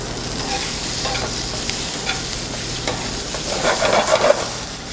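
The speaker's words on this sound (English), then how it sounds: "I'm going to go ahead and add my summer squash." Summer squash goes into a hot pan for beef tip gnocchi, frying with a constant loud sizzle while being stirred, the scraping and crackle swelling near the end.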